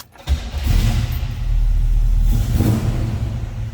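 A 1967 Chevrolet Camaro engine catches quickly and settles into a deep, loud, rumbling idle close by, with a brief rise in revs near the end.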